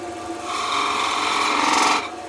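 A skew chisel makes a slicing cut across a wooden Christmas tree spinning on a lathe, giving one short, continuous rasping hiss that is close and loud and fades out after about two seconds.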